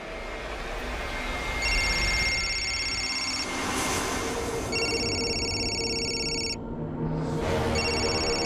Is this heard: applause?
no